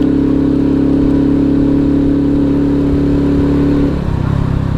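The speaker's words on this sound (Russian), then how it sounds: "И также слегка поддаю газ." An Alpha moped engine in third gear held at a steady drone under light throttle, close and loud, then the tone shifts as the revs change near the end.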